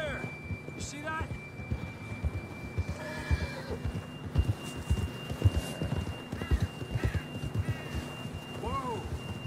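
Horse hooves clip-clopping in a steady rhythm in Red Dead Redemption 2, mixed with snorts and a short whinny, heard under continuous background noise and occasional voices.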